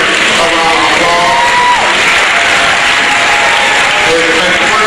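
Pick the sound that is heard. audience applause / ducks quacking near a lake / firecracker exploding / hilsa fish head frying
audience applause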